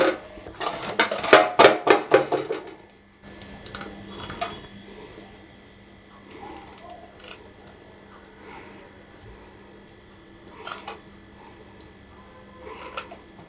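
Kanakatha fish has its side fins trimmed off, giving a quick cluster of crisp snipping clicks up close, then sparse, fainter clicks over a steady low hum.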